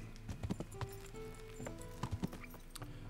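Horse hooves clip-clopping in Kingdom Come: Deliverance, two quick clusters of soft hoof thuds separated by a pause, moderately close over quiet ambient game sound.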